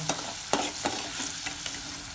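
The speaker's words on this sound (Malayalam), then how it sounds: "ഒരു ട്രിപ്പ് പൊരിച്ച് വരുന്നുണ്ട്" A batch of freshly dug tubers, cut like fries, crackles and sizzles in hot oil, with a few sharp scrapes and taps of a stirring utensil over a continuous bubbling hiss, close by.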